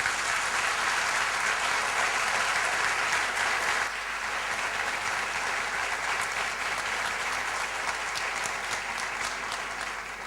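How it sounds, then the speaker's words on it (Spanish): Steady applause from a large audience at a Catholic educators' conference, continuous dense clapping that drops slightly in level partway through and carries on to the end. "Interpreto el aplauso como un deseo de terminar"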